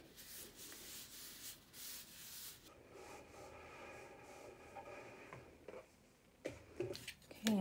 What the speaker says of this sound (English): I can see that I need to shave the corners a little bit.